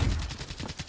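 Rapid gunfire bursts from the player's suppressed gun in a video game, a quick run of muffled, evenly spaced low thuds at close range with no talking.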